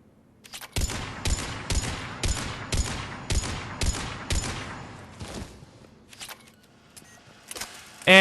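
Mattock rifle shots fire at targets in Mass Effect 3, about eight sharp, evenly spaced loud cracks followed by a few fainter shots, without talk.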